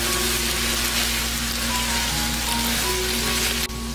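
Potatoes braised in seasoning sauce, with scallions added, sizzle and fry steadily in a pan, giving a constant close hiss with no talk over it.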